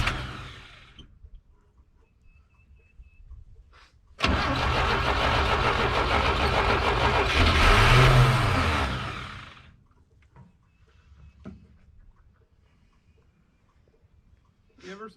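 Engine of a 1968 GMC truck being revived roars up loudly for several seconds, holding a steady high rev before dropping back to a quiet idle, with people talking faintly in the pauses.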